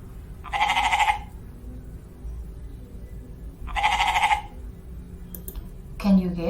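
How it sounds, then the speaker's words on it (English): A goat bleats twice, each call a drawn-out wavering cry about a second long separated by a short pause, clear and close, followed by a brief voice at the end. "this is the sound of the goat."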